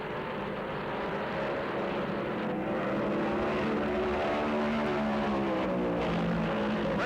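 Engines of 1973 NASCAR stock cars racing at Charlotte Motor Speedway blend into a distant, steady roar with a faint rising and falling drone as cars circle the track, with no voices.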